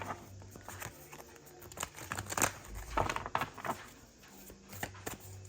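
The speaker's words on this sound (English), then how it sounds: "we're going to go ahead and shuffle these cards." Tarot cards shuffled by hand, giving soft papery crinkles, riffles and light pattering taps in an irregular rhythm at close range, fairly quiet, with no talking.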